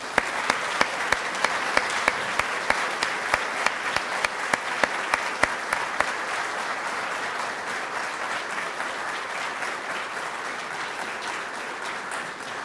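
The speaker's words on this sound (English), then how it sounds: "Let's give them a round of applause." Audience applause at a military change of command ceremony, a crowd clapping steadily with a few sharp, close claps standing out over the first half before the sound settles into an even wash.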